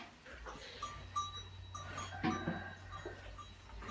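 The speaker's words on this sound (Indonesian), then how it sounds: "Yang di sini sapi-sapi pegon." Pegon cattle penned in iron-railed stalls shift and move in a barn, with scattered knocks, a faint clank and one brief low bovine call, set against a quiet hum of the shed, no talking.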